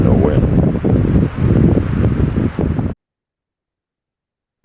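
Outdoor wind buffets a microphone in steady broadband rumbling gusts for about three seconds before the sound cuts off abruptly to silence.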